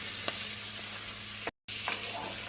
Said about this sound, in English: from me basting, you know, with the spoon and the butter that's melting, it is actually starting to cook the steak on the outside